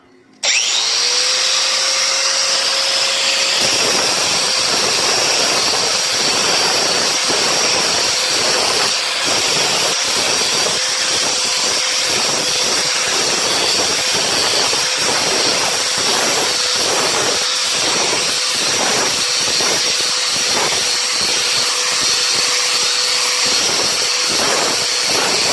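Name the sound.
angle grinder with 60 grit sandpaper flap wheel grinding cast iron wok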